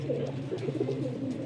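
Racing pigeons kept by a breeder coo nearby in low, throaty rolling calls that overlap continuously for the whole moment.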